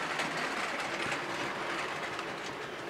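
Model railway intermodal train running on a layout track, a close, continuous rolling rattle of small wheels and wagons with a steady level and no talk.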